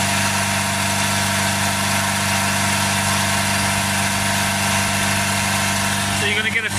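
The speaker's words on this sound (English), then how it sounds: "I'm going to keep the engine running until it gets warm." A Ford Transit Custom 2.2 diesel van engine, with a stuck EGR valve, idles with a steady, close, unbroken drone for the whole stretch, ending with a brief shift near the end.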